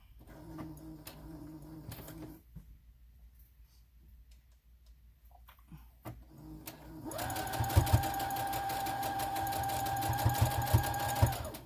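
A home sewing machine runs steadily and loudly for the last few seconds, a fast mechanical whir with rapid ticking stitches, after quieter handling sounds while it is being threaded.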